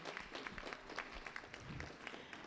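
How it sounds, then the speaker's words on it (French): Applause from the audience at the Miss Charmante Nouvelle Aquitaine 2025 pageant, a dense, steady patter of many hands clapping together through the whole stretch, moderately loud and fairly close. "Vous applaudissez très fort, Margot, s'il vous plaît."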